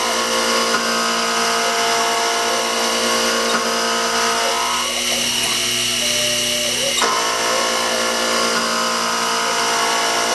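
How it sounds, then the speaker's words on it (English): Milling machine taking a climb-milling finishing pass on a steam gland spigot, a loud, steady whining drone with layered tones and a rougher cutting texture in the middle, continuous and close. "we're climb milling for the finishing passes"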